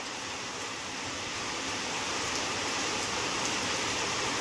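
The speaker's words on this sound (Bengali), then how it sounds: "কত জোরে বৃষ্টি হচ্ছে" Heavy rain pours down in a steady, dense hiss that fills the whole moment, close and unbroken, with no voices over it.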